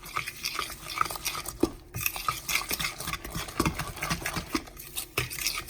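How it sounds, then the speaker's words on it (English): A spoon or spatula stirs gluten-free, dairy-free banana muffin batter by hand in a bowl, producing continuous close, irregular scraping and tapping strokes with occasional sharper knocks against the bowl. "I'm gonna mix this up."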